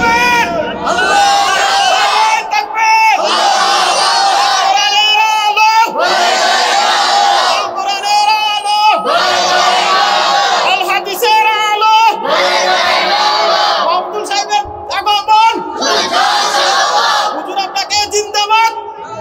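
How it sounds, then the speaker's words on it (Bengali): A large crowd at an outdoor Islamic religious gathering chants the takbir in loud, repeated unison calls, with a lead voice prompting each round and the crowd answering in a steady rhythm of roughly three-second bursts. "তাকবীর পড়েন"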